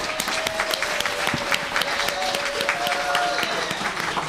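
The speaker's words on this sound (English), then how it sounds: "Let's give him a big round of applause" An audience in a legislative chamber during an Older Americans' Month mock session gives a sustained round of applause for Alvin, dense and even clapping throughout with a faint tone running underneath.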